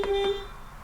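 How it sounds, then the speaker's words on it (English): A single-tone horn beep from a 1979 Volvo 245 DL with one of its two horn tones not working, one short steady note up close, then fading off, no talk. "only one of the 2 horn tones works, but I actually like it. It's kind of a cute beep."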